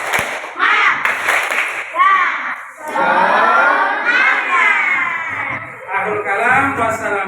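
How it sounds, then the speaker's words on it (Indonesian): Children in a classroom perform a chanted clapping routine, bursts of claps mixed with loud young voices shouting and chanting together in rhythm, close and lively. "Tepuk semangat."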